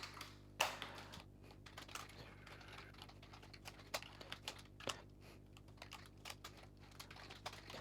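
Code is typed on a computer keyboard in a quiet room, a steady patter of close key clicks with a few louder strikes.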